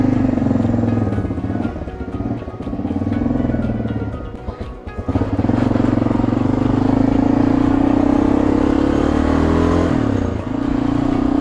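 A 30-year-old Honda Dominator motorcycle climbs through the Austrian Alps, its single-cylinder engine droning steadily up close with a brief dip in throttle partway, then pulling loud again, with wind noise and no talk.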